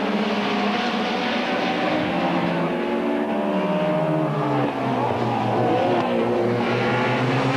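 Touring race cars from the 1990 British Touring Car Championship roar past on a circuit, engines loud and continuous with shifting pitch as one car laps a BMW, a steady wall of engine noise throughout.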